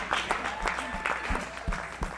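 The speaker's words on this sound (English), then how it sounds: "That was the rest of the clap for Shakia" A synagogue congregation claps in a short burst of applause, a quick run of uneven claps close by, mixed with people talking and calling out.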